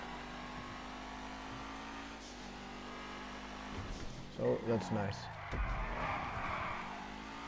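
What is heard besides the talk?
race car engine revving in a video game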